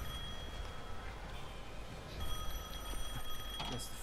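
A telephone rings inside the video game Devil May Cry 5, a thin repeating bell tone that sits over a steady game background and continues throughout.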